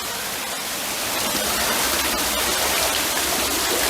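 Waterfall at Gizlikent, a steady, dense roar of falling water heard up close, constant and unbroken with no voices over it.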